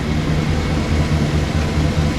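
A Bomag BMP 8500 compactor engine runs steadily after its idle has been readjusted, a loud, continuous low rumble that holds even throughout with no talk over it.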